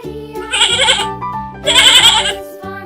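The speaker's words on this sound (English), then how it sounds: "Sheep." A sheep in a children's farm song bleats twice, two loud wavering cries with a short gap between them, clear and close over soft background music.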